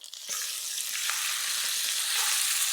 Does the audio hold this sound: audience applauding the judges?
no